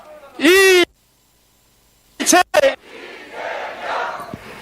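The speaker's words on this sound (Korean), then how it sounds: "큰 함성으로 외쳐봤으면 좋겠습니다" A crowd at an outdoor presidential campaign rally in Naju, South Korea, shouts a candidate's name in loud short bursts led by an amplified voice, followed by a lower rumble of crowd noise.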